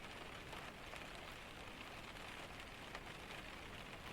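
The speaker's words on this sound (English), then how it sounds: "Outside, the rain was everywhere, above you, around you, filling the air with its constant sound." Steady rain falls outside a cabin during a Scandinavian storm, a dense, even hiss with soft patter and no pauses, filling the space at a constant low level with no voices.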